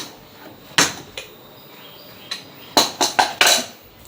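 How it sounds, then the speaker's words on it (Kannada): Pressure cooker lid being opened in a home kitchen: a sharp metallic clank, a softer knock, then a quick cluster of four close, ringing metal clatters. "ನಮ್ಮ ಮಮ್ಮಿ ಕುಕ್ಕರ್ ತೆಗಿಲತ್ತಾರ"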